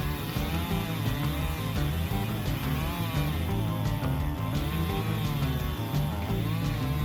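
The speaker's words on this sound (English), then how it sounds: "And then here I am once again on the Stihl MS-291 chainsaw, bucking those logs" Stihl MS-291 chainsaw bucking firewood logs, running loud and close with a steady, continuous engine drone that holds throughout without pause.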